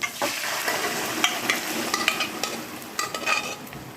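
Bottle gourd frying in oil with hing and ginger paste, a continuous hiss of sizzling broken by scraping stirs and light clicks of a utensil against the pan, close and steady with no talking.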